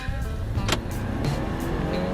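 A 2014 Honda Accord or Toyota Camry hybrid accelerating at full throttle from inside the cabin, its engine holding a steady, continuous drone with road noise beneath, loud and unbroken throughout.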